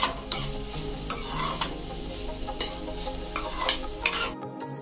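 Grated coconut and onion being stirred and roasted in a pan: a continuous dry sizzle broken by repeated scraping strokes of a spatula, close and moderately loud.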